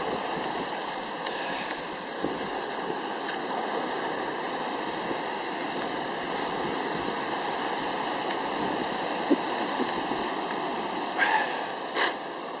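Waves wash continuously onto a shingle beach at Barmouth, Wales, a steady moderate roar of surf with no talking.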